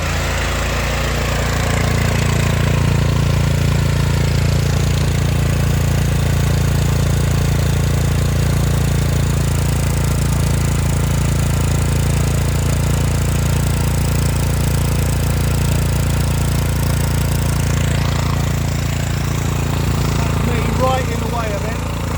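An engine fitted with a thunderstorm generator idles with a steady, low, even drone at close range, unchanging throughout with a faint hum layered over it.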